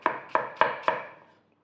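Four crisp knife chops through apple on a cutting board, evenly spaced and close, each a sharp thud that fades quickly, with no talking.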